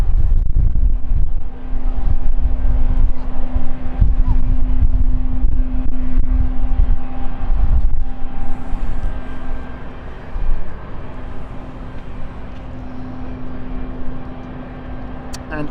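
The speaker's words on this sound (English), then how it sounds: "we will see the engine start up very soon" Airliner at London City Airport with its engine starting up, a loud broad rumble with wind buffeting and a steady tonal whine that holds through, easing slightly in the later seconds.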